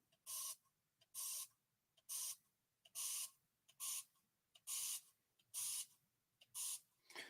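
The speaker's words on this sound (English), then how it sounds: "You have to mist it" A hand spray bottle mists water over model cotton field rows in about ten quick, even bursts, each a short close hiss separated by brief pauses, with no voices.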